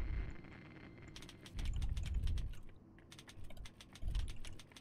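Fast, uneven bursts of keyboard typing during a typing game, crisp clicks in quick runs with short pauses, over a low background hum.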